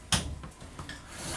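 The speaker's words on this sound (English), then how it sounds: "slider door instead of a curtain or an accordion door" A solid wood sliding door rolls open in the bedroom of a 2020 KZ Connect C271BHK lightweight travel trailer, giving one sharp knock followed by a brief soft rumble and a few lighter bumps, close and fairly quiet.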